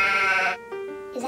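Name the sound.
sheep bleating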